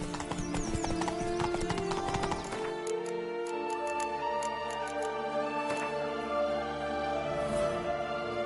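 Horse hooves galloping in The Witcher 3, a fast, steady clip-clop rhythm that is loud and close at first, then thins out, with a faint whinny and no talk over it.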